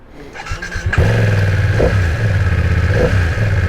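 A 2023 BMW F 900 XR motorcycle engine starts and then idles with a steady, loud, close throb, with two short blips of the throttle rising above the idle and no talking.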